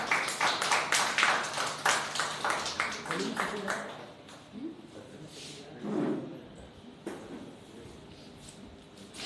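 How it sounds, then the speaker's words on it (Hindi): Audience applause at a Hindi kavi sammelan and mushaira welcoming a poet: a burst of many hands clapping fades out over a few seconds, followed by quieter room noise with a few scattered sounds. "जोरदार तालियों से स्वागत कीजिए"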